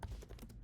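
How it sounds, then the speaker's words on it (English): Quick, soft clicks of typing on a computer keyboard, a short close burst of keystrokes alone. "So let me type in the chat."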